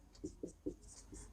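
Pen or pencil writing maths working by hand on paper, soft close scratching with a few distinct strokes and taps in quick succession, quiet and alone without talk.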